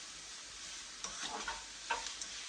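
A splash of weak 2.6% beer cooking down in a pan with curry ingredients gives a faint, steady hiss, with a few soft stirring scrapes and clicks partway through.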